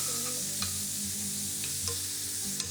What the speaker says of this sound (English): Stir in that sour cream.